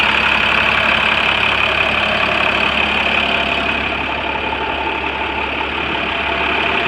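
An International Harvester chip truck with a nearly 300 horsepower engine idles steadily, a loud, even mechanical rumble heard up close and alone, easing slightly in level toward the end.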